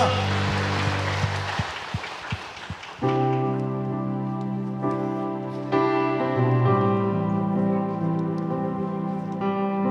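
A church congregation claps during a Korean Sunday worship service, a dense crackling applause that fades out after a few seconds and gives way to organ or keyboard chords and singing.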